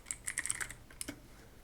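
Quick, light clicks of typing on a computer keyboard, an uneven flurry of keystrokes followed by a few more taps, faint and close with no talking.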